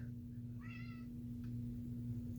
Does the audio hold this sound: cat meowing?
yes